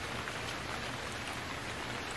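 Steady rain hisses evenly across a scene in the survival game Stranded Deep, a dense, constant patter with no breaks and no voices.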